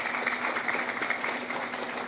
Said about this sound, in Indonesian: Kasih aplaus, tanda tepuk tangan